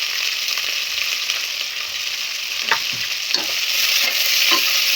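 Onions and green chillies frying with fennel seeds in hot oil for chicken biryani, a loud steady sizzle broken by several scraping stirs of a spoon against the pan, close up, with no voices.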